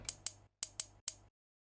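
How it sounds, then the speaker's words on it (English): Crisp, bright hi-hat sample from music production software struck five times in quick succession, each short tick decaying fast, quiet and isolated. "I got my hat,"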